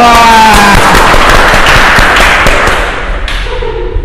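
Loud, close applause from an audience: a dense burst of sharp, rapid claps that holds for about three seconds, then thins out and fades near the end.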